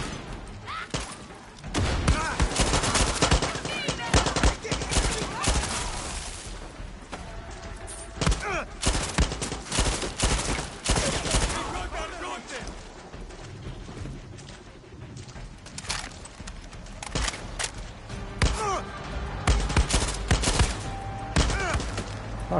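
Gunfire in the video game Far Cry 6 comes in repeated bursts and thumping shots, dense and loud throughout, with little pause between volleys.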